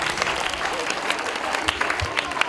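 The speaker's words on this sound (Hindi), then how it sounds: "लेकिन ताली बजाओ इसके लिए, बात अच्छी थी।" An audience applauds at a Krishna Janmashtami telecast featuring Swami Ramdev, with dense, steady clapping from many hands filling the room throughout the short burst.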